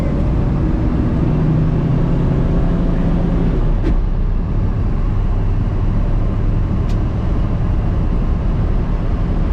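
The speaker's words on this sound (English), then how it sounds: "It's a smooth ride on the road. Got a little typical wind noise" A 1965 Ford Mustang coupe cruises at speed on a cold Minnesota road, heard from inside as a loud steady roar of engine, tire rumble and wind noise, with a couple of faint brief clicks.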